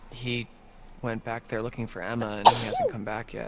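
A single short, sharp sneeze bursts out in the middle of continuous conversational speech, brief and close.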